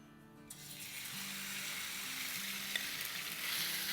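Chicken hits hot oil in a wok and erupts into a loud, continuous sizzle that rises and holds, with faint scraping and stirring sounds beneath it and no talk.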